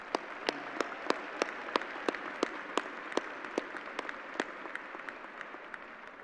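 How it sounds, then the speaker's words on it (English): Scattered applause from a graduation ceremony audience in a large hall, distinct individual claps spaced irregularly and fairly faint, thinning toward the end. "Let's give them another round of applause,"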